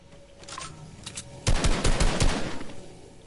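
Shotgun blasts in the video game Fortnite, a quieter shot first, then a loud rapid burst of heavy booming reports close by.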